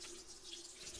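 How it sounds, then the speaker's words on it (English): Tap water runs into a bottle being filled at a sink, a soft steady flow that is faint and close, with no talking. "That's me filling my bottle with water to be placed on the windowsill during the eclipse"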